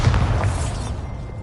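A deep, rumbling Bombarda blasting-spell explosion from a Harry Potter video game booms close and loud at the start, then its low roar slowly fades over a second and a half.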